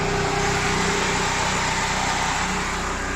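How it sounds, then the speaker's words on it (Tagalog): A Chery QQ 311 engine idles in a garage with a steady, even hum and a high-pitched whine, running alone and unchanging throughout. "So check natin yung makina."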